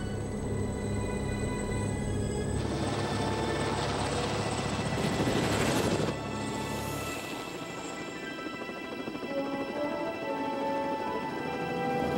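A helicopter's steady rotor drone fills the scene, loud and continuous, with a brief rushing swell midway before settling back to a lower hum.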